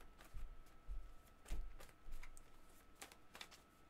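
Quiet, close playing cards are shuffled in short bursts of riffling and tapping, with brief pauses between them.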